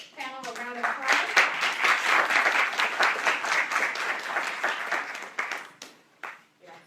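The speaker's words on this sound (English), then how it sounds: "So we want to give our panel a round of applause." A crowd at a panel discussion applauds steadily for several seconds, the clapping dense and loud before tapering off into a few scattered claps at the end.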